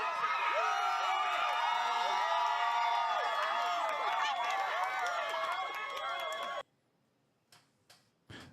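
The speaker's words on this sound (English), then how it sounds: "They are cheering after the New York appellate court tossed out state-level terrorism charges." Supporters gather outside a New York courthouse after an appellate court ruling, and a dense crowd of shouting, cheering voices fills the first six seconds before cutting off abruptly, leaving a few faint scattered sounds.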